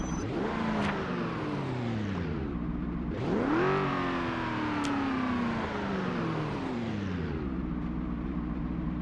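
A car driving in Project Zomboid, its engine droning steadily and sweeping up and down in pitch as it revs and shifts, loud and close with no talking.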